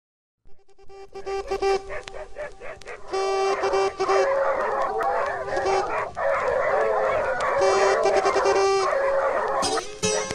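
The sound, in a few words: hunting dogs barking and howling during a wild boar hunt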